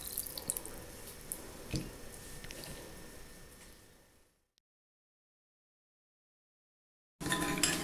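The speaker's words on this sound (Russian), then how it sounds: "Добавляю уксус." Vinegar poured into a zucchini and carrot salad being prepared for winter canning: a faint, soft liquid trickle and drips for a few seconds, then a pause of silence before a louder rustle returns.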